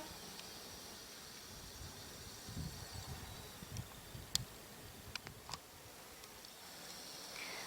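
Bees, bumblebees and mason bees buzz faintly outdoors on a yellow currant bush, a low drone of insects moving among plants, with a few soft clicks and ticks nearby.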